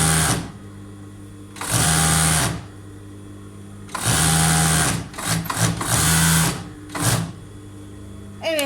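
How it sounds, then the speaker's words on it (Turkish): An overlock sewing machine stitches plus-size leggings in several short, loud bursts of fast whirring, with quiet pauses between runs. "İki ucunu bir araya getiriyorum ve overlock'ta dikmeye devam ediyorum."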